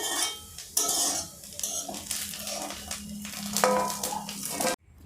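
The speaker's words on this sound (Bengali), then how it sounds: "এইভাবে ছাতু লাল লাল করে ভেজে তুলে নিতে হবে" Mushrooms fry in a pan until reddish-brown, with a continuous crackling sizzle and busy scraping of a utensil stirring them, close and fairly loud, cutting off abruptly near the end with no talking.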